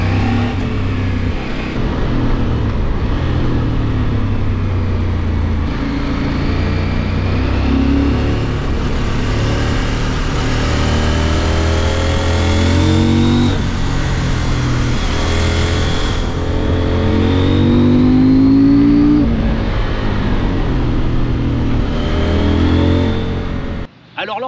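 CF Moto 800MT motorcycle engine droning and revving through the gears on a ride, with repeated rising pitch sweeps as it accelerates, loud and continuous with wind rush and a voice talking over it.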